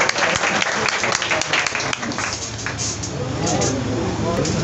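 A crowd at a Punjabi poetry gathering claps steadily, close and loud, with sharp individual claps standing out. The applause continues without pause, with some voices mixed in underneath.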